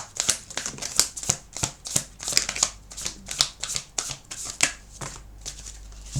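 Tarot cards being shuffled by hand in a steady series of crisp riffling bursts, roughly two per second, close and clear with no voices.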